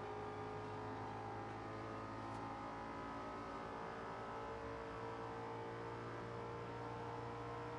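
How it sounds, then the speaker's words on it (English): An Audi closing in from behind in Forza Horizon 2 on Xbox One, a steady, fairly quiet engine drone with a sustained hum and no clear rise or pass. "Another Audi coming up behind me there."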